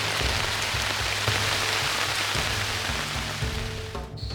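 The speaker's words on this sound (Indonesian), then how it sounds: "hujan turun sangat deras yang membuat shelter kami mengalami kebocoran" Heavy rain pours down on a forest shelter in a dense, constant hiss, with steady drumming on a nearby surface and a faint low hum underneath.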